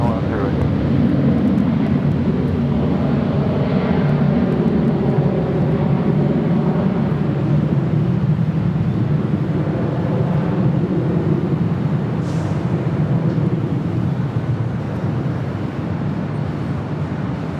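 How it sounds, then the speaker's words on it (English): Airbus A380 jet airliner arriving at LAX, heard as a loud, steady broadband jet roar with wind rumble that holds throughout, with a faint rising whine near the end, while air traffic control radio talk runs over it. "Next arrival is another A380, Flight 204."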